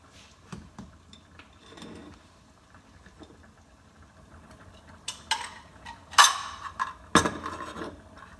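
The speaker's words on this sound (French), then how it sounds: "Et nous laissons chanter notre casserole." A saucepan of seafood blanquette simmers on a low gas flame, a soft steady bubbling hiss with light clinks of pans and utensils, growing louder toward the end, no talking.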